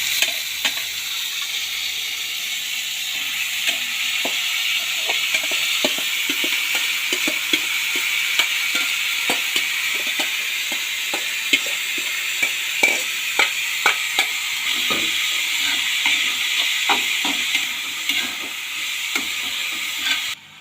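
Onions and jackfruit for a Kerala-style jackfruit palya sizzle steadily in a pan, with a constant hiss punctuated by frequent light scraping clicks of stirring, close and continuous with no talk.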